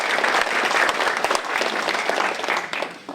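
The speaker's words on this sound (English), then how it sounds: "I think that deserves a round of applause." An audience at an evening talk on recovery after prostate cancer breaks into applause, a dense, steady wash of many hands clapping that fades slightly toward the end.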